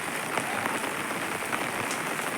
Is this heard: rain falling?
yes